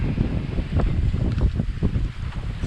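A sailboat running along at sea near Grenada, with a steady rushing of wind and water against the hull, close and fairly loud, with no talk.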